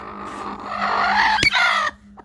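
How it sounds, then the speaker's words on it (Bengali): A hen gives an agitated, drawn-out cluck close by while guarding her chicks. A sharp knock cuts in near the end and is followed by a brief quiet. "এই যে ঠোক দিল দেখেছেন, মুরগি রেগে গেছে, মুরগি রেগে গেছে।"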